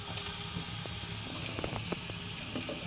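Curry broth simmering in a pan during cooking of a mixed fish curry, a soft continuous bubbling with scattered small pops, faint and steady with no talk.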